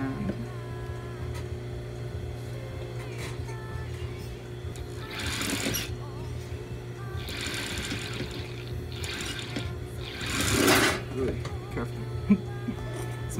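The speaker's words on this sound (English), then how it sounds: "we're gonna go ahead and sew this together to make our little" Sewing machine stitching a small fabric band for a doll beret, a steady mechanical whir running throughout with several louder bursts of rapid stitching and a few clicks near the end.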